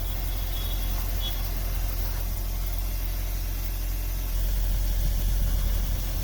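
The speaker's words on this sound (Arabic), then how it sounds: "طبعا الموتور بدأ يسخن." A car engine, overheating because its cooling fans fail to switch on due to a control fault, idles with a steady low hum and vibration, close and unbroken, growing slightly louder toward the end.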